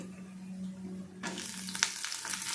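Green chillies dropped into hot oil in a pan for a peanut and coconut chutney: quiet at first, then a sudden bright sizzle bursts up and crackles steadily close by.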